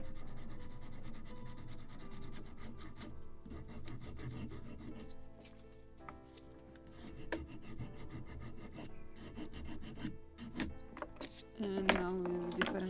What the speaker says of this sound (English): And now with different sandpaper